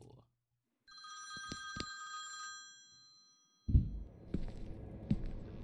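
A telephone rings in an apartment, several electronic bell trills in a short burst, then clattering handling noises follow at moderate level with no talk.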